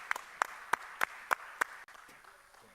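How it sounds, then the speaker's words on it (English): Six isolated, evenly spaced claps ring out at a conference in Abu Dhabi, a sparse round of applause that stops abruptly and leaves near silence. "Big round of applause."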